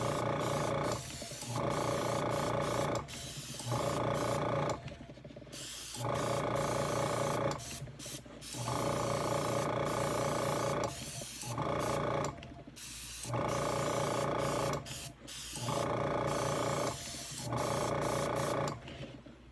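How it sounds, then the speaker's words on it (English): Black spray paint hisses from an aerosol can onto a model kit figure in steady bursts of a few seconds each, separated by short pauses, close and fairly loud with no talking. "I'm going to spray paint"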